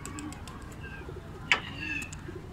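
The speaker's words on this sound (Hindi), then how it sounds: "उड़ा दो अपने सारे कबूतर" Soft pigeon cooing in the background with a brief sharp flutter or clap midway, over a low steady outdoor rumble.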